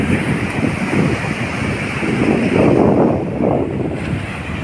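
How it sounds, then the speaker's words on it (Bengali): Sea waves wash in under strong wind at Kargil beach in Bakkhali, a continuous roar of surf with gusty microphone buffeting that swells louder midway, with no one speaking. "কী সুন্দর সুদূর বিস্তীর্ণ সমুদ্র"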